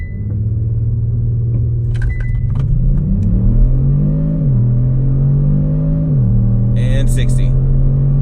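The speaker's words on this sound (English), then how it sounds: "I'm going to do a 0 to 60 run." A 2019 Kia Stinger GT RWD launches hard from a stop, its engine note climbing steadily in pitch with distinct dips at each upshift, loud and continuous throughout, with a voice speaking briefly over the rising drone.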